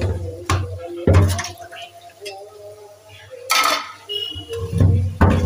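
Water is poured off washed meat in a pot, with splashing pours and clinks of the pot between bursts, heard alongside a talking voice.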